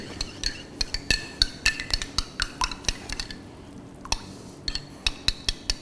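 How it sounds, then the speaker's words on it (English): Metal spoon scraping and clinking against a pan while sour cream is stirred into chicken stroganoff, a close, steady run of sharp taps and clinks with brief quiet gaps, no talking. "add this sour cream. Mix it properly."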